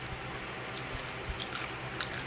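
Close, wet chewing of a sour gumdrop candy, soft squishy crunches with a few sharper clicks over a faint steady hiss, no talking.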